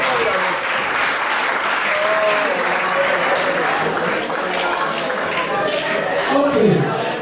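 An audience claps together in a long, dense, steady round of applause that fills the room, with faint voices and cheers mixed in beneath it.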